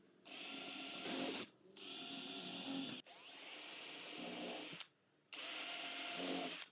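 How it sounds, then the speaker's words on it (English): A power drill with a countersink bit bores holes into a wooden rail clamped over scrap wood, with four loud whining bursts of about a second or more each, separated by short pauses, close up and with no talking. "Using a countersink bit, I drilled a hole at each mark."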